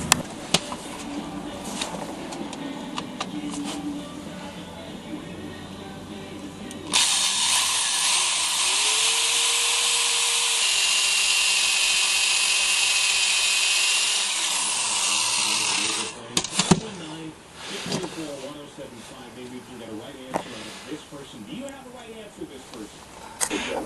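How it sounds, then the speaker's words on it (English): Power drill boring into metal while fitting the crossbar for a 1600 engine in a late-1960s VW Beetle, a steady high whine of about nine seconds after some talk and clatter, then further talk and handling noises. "need a more powerful drill."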